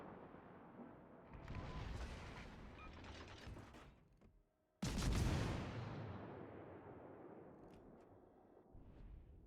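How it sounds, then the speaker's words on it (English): Naval gun shells fire and land in World of Warships Legends, two loud booming blasts with long rumbling decays, the second sharper and heavier, followed by a quieter distant rumble. "Looks like we're landing some shells there."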